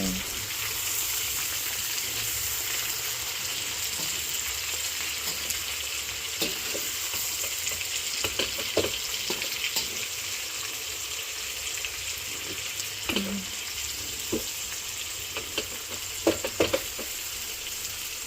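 Pork adobo with string beans sizzles and fries in a pan while being stirred, a steady close crackle broken by scraping and clinks of the utensil against the pan.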